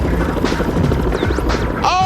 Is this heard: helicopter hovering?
yes